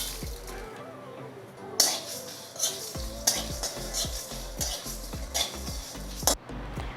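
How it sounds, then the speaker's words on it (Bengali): Whole spices dry-roasting in a hot kadai are stirred with a utensil, giving repeated scraping strokes against the metal in an uneven rhythm over a soft, continuous sizzle. "মশলাগুলো সুন্দর করে ভেজে নিয়েছি।"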